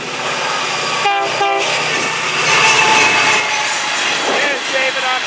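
A loud train horn blasts over the steady rumble and clatter of a passing FEC freight train close by, entering the Fort Pierce yard.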